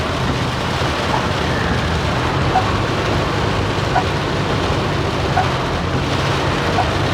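Heavy rain pours down steadily in a dense, even roar, likely drumming on a vehicle, with a few faint clicks scattered through it and no voices.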